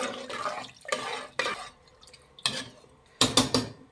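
Sweet pongal ingredients being stirred in a pressure cooker pot with water: several distinct scraping, clinking strokes of a spoon against metal, coming in short irregular bursts with quiet gaps, close and moderately loud.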